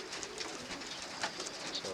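Tippler pigeons in a kit box coo and shuffle close by, soft repeated calls over a steady bed of rustling and background noise.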